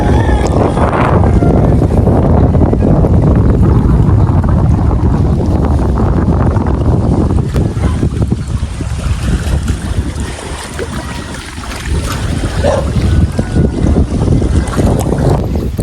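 Strong wind buffets the microphone outdoors, producing a continuous low roar that dips slightly partway through and then swells again, with no clear speech over it.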